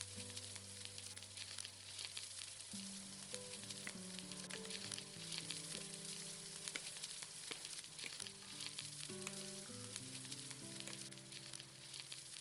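Vegetables and shredded cabbage stir-fry in a wok for lo mein with a steady, dense sizzle and crackle. It continues evenly throughout under soft background music.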